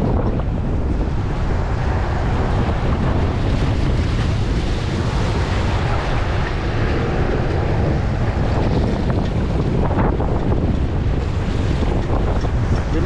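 Sea waves and strong wind at the Jaffa port beach in Israel, a constant loud roar of surf with heavy wind buffeting the microphone throughout.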